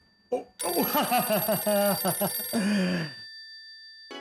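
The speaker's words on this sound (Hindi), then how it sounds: "आपका फोन बज रहा है" An electronic phone ringtone plays loudly and melodically for a few seconds, then stops; a faint voice and short tone come just before and after.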